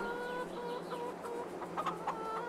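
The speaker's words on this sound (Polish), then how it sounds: "jakie te kury są żerne." Hens clucking on a small countryside farm, a busy overlapping chorus of short clucks and murmurs from several birds close by, with a few sharper calls toward the end.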